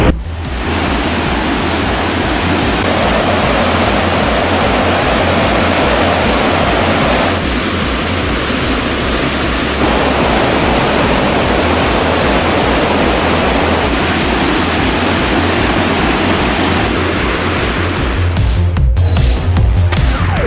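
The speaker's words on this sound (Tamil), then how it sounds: "மெயினருவி, சினிஃபால்ஸ் உள்ளிட்ட அனைத்து அருவிகளிலும் தண்ணீர் ஆர்ப்பரித்துக் கொட்டுகிறது" Cauvery river water gushing down the Hogenakkal waterfalls in flood, a loud, dense, unbroken roar that holds steady throughout, with a brief shift near the end.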